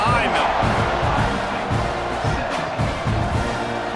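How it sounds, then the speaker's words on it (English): Stadium crowd roars steadily at kickoff in the College Football 26 video game, Iowa State versus Texas A&M, a dense wash of cheering and shouting with a commentator talking over it. "this crowd now ready to get behind them"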